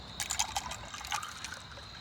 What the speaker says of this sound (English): I'm gonna pour myself a drink and celebrate.